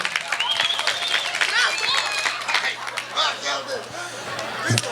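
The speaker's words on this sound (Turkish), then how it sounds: "Amca bir alkış alalım." A crowd claps steadily for several seconds amid lively chatter and excited voices, with a low hum running underneath.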